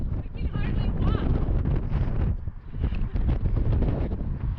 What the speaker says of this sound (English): A little bit windy up here.